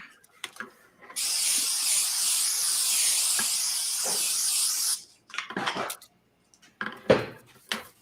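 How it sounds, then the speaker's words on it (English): A continuous hissing of cooking spray onto a cookie sheet lasting about four seconds, followed by a few clinks and light handling noises. "usually just a little bit of spray on there"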